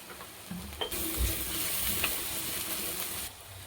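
Fish curry ingredients sizzle and fry in a pan, with a steady hiss broken by a few clinks and scrapes of stirring, close and fairly loud.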